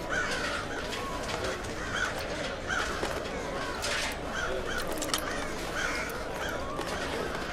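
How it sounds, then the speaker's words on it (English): Crows caw repeatedly in the distance in the video game Thief 4, set off by a noise, over a steady, noisy background, the calls rising above a constant hiss. "the noise set off the birds"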